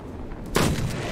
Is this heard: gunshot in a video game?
yes